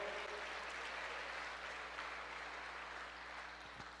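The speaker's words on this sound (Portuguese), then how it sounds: "Você pode aplaudir ao Senhor, querido?" A church congregation applauds in worship, a steady dense wash of many hands clapping that holds evenly for the whole stretch and eases slightly near the end, with no voices rising above it.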